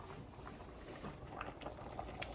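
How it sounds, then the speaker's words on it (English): A pot of cabbage boil with corn and cauliflower bubbles on the stove, giving a soft, steady, faint burbling and popping patter nearby with no talking. "So now it's all boiling."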